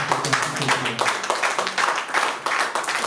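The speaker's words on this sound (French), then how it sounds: "Non, acclame pour la parole de Dieu" A church congregation at a Sunday service applauding together, a dense, rhythmic burst of clapping from many hands filling the room, loud and continuous for a few seconds.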